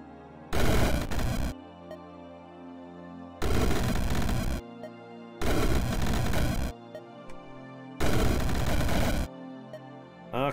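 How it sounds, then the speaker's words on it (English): Rift Wizard video game explosions: four loud, dense bursts of crackling blast noise, each lasting about a second, spaced by short quiet gaps, with no voices. "Those explosions are right proper scary."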